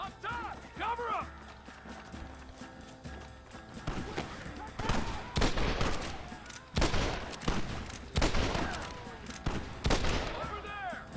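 Gunfire crackles through a Red Dead Redemption shootout, sharp bursts and volleys hammering in clusters from about four seconds on, mixed with horse hooves and shouting men.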